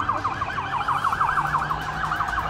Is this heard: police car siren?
yes